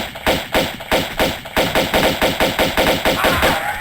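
Rapid pistol gunfire from the video game Tomb Raider II Remastered, a steady rhythmic burst of around fifteen loud, close shots in under four seconds, with no talk over it.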